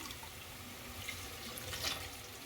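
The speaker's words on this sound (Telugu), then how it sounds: "ఇప్పుడు కొద్దిగా వాటర్ అనేది యాడ్ చేసుకున్నాము" A steady stream of water runs and splashes into a cooking pot of potato and pea kurma, a continuous hissing pour lasting a couple of seconds, fairly quiet and close.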